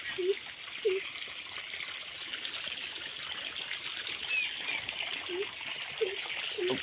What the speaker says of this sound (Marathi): सगळं पाणी इथंच चाललंय पुढचं काय पाणीच चाललं नाही